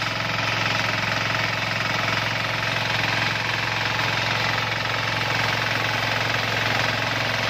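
Loud, continuous chugging from a Sakura 188 diesel tiller working soil into beds, a close, rapid knocking engine drone with heavy vibration that never lets up, and nobody speaking.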